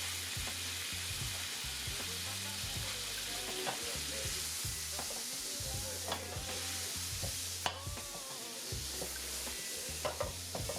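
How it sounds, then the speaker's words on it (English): Four tablespoons of butter melt and sizzle in a pan, a steady crackling fry with scattered pops and occasional stirring scrapes, close and continuous. "we gonna get 4 tablespoons of butter into a pan"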